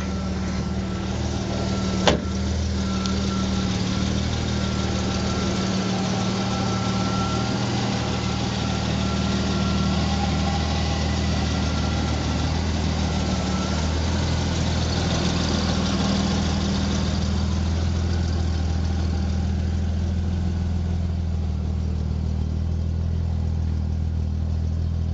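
A 1969 Jaguar E-Type roadster with a new exhaust idles steadily and close by, a low, even rumble that runs alone for the whole stretch.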